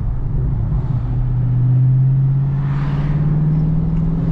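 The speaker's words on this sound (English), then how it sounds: "This car is insanely loud." A loud car engine, a Dodge Scat Pack or tuned Mustang 5.0, growls in a low, steady drone that swells into a rev and then holds, close and alone.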